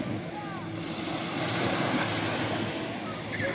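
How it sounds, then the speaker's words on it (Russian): Evening sea waves wash onto a beach at Berdyansk, a continuous surf roar with wind buffeting the microphone, close and fairly loud throughout. "Вот такое вечернее море."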